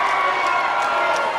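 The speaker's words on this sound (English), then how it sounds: "And this crowd showing much more adulation for Trauma Unit than for the Thoroughbreds here tonight." Fans at a Thoroughbreds versus Trauma Unit event cheer in a steady, loud wash of crowd noise that fills the whole moment without pause.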